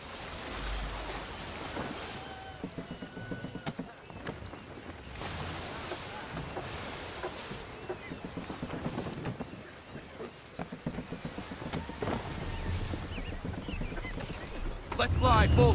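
A sailing ship in Assassin's Creed III pushes through choppy water, with waves washing and surging steadily around the hull, a low rumble beneath, and intermittent voices over the surf.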